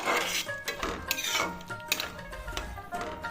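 Railway mutton curry being stirred in a pot, a spoon scraping and clinking against the metal in quick, irregular knocks and rattles up close, with no talking.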